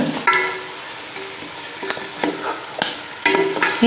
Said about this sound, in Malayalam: നന്നായിട്ട് യോജിപ്പിച്ച് കൊടുക്കാം. ആ മസാല എല്ലാം ചിക്കനിലേക്ക് അങ്ങോട്ട് പിടിക്കണം.